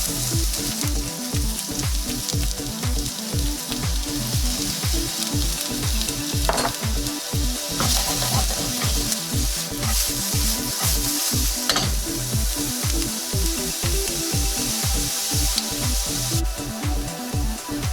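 Minced onions sizzle steadily in a hot oiled pan while being cooked for smoked beef green chili, a dense continuous frying hiss with rhythmic stirring scrapes throughout, close and fairly loud, no talking.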